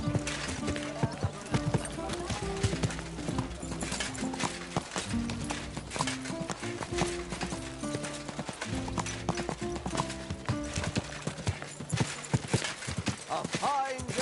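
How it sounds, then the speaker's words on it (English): Horse hooves in the video game Kingdom Come: Deliverance II, a steady rapid clip-clop of a ridden horse running throughout, loud and close over a layered background score, with brief game voices. "Easy, good horse."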